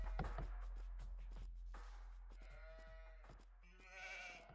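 Several sheep bleat in Age of Empires II, a string of short wavering calls overlapping near and far over steady game background noise, with a louder cluster near the end.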